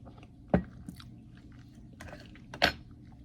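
Eggnog overnight oats being chewed from a spoonful, with two short, crisp bites or crunches standing out close against a quiet background.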